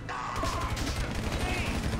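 Gunfire in GTA Online, dense rapid bursts of shots running continuously and loud throughout, with a voice briefly talking underneath.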